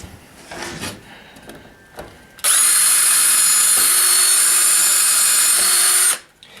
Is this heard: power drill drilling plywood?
yes